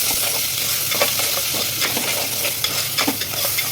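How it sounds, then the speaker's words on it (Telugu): Mutton pieces being stirred in a pan for a gongura curry, a steady close frying sizzle with repeated scraping stir strokes throughout, no voices. "మటన్ 2 సార్లు కట్టుకున్నానండి. వేసేసుకుంటున్నాం. వేసేసుకొని కలుపుకొని కొంచెం మగ్గనివ్వాలి."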